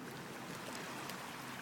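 Ocean waves washing in along a beach where children wade, a steady broadband rush of surf that is fairly faint and continuous, with no voices heard.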